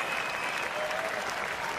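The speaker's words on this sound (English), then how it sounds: "he's getting a standing ovation from this crowd at the O2" A crowd at the O2 arena gives a standing ovation after an esports FIFA World Cup final, with sustained, dense applause and cheering all the way through, loud and close.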